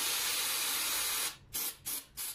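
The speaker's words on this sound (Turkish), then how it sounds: "spreyini sıktıkça sarılar griye döndü" An aerosol spray paint can sprays gray paint over yellow kitchenware: one long steady hiss, then three short bursts, close and clear with no talk.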